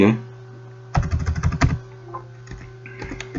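Keys clack on a computer keyboard in a burst of rapid typing, followed by a few scattered single keystrokes. The sound is close and moderately loud over a low steady hum, and nobody speaks.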